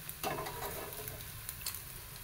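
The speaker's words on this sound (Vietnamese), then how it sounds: "Rồi tiếp tục chiên cái sườn non" Vegetarian spare ribs fry in hot oil, a soft continuous sizzle with a few brief stirring clinks and bumps, fairly quiet and close, with no voices.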